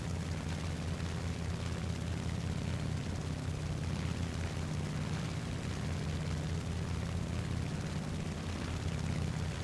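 A World War II warplane's engine drones steadily in the video game War Thunder, a continuous, moderately faint propeller roar that holds without a break while the plane dives.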